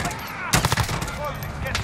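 Bursts of gunfire in Call of Duty Warzone, with M16 rifles in play, a loud cluster of rapid shots near the middle followed by scattered quieter reports, with people talking over the game audio.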